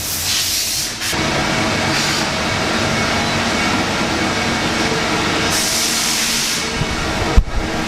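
A machine in a working machine shop runs aluminium inner valve sleeves with a loud, steady hissing, spraying rush, swelling in intensity at moments and ending with a few sharp clanks.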